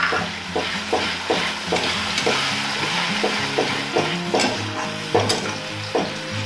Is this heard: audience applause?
no